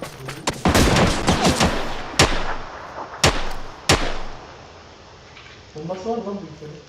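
Gunfire in the video game PUBG: a rapid burst of automatic shots followed by several loud single cracks spaced apart, then a softer tail, with players talking over it.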